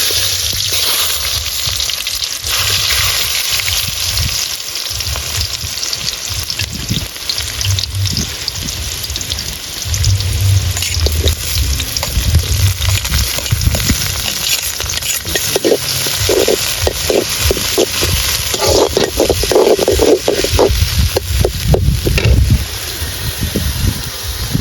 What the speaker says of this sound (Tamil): எண்ணெய் சூடாயிடுச்சு. வெங்காயம் போட்டுக்கலாம் முதல்ல.